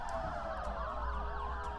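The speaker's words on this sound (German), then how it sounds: "Ich höre übrigens die ganze Zeit Sirenen." Emergency sirens in the city-building video game SimCity 2013 wail continuously with overlapping rising and falling tones, several at once, over a steady low city rumble.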